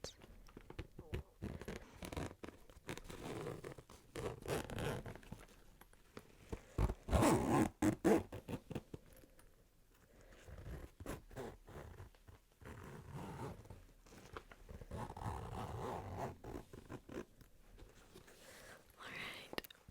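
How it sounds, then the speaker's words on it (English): Zippers on a bag's pockets opened and closed close to the microphone, several drawn-out rasping pulls with pauses and soft handling rustle between them. "Now here is some zipper sounds."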